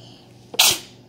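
A single sharp sneeze bursts out close by in a quiet room.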